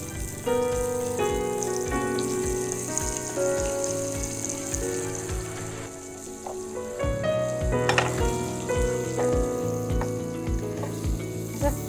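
Shrimp sear in a hot pan for chili garlic prawns, a steady crackling sizzle throughout with occasional stirring scrapes and tonal background sounds.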